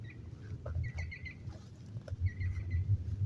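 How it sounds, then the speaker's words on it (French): Birds chirp in short bursts outdoors over tall grass, over a steady low rumble, several calls scattered across the clip, moderately distant. "On surveille au bruit des oiseaux comme vous pouvez l'entendre."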